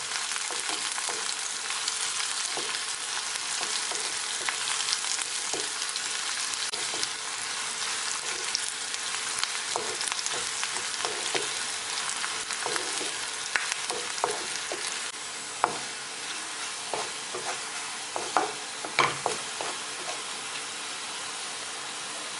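Garlic, dried red chillies and curry leaves fry in hot oil with a continuous crackling sizzle. Scattered pops and stirring clicks grow busier toward the end, and no voice is heard.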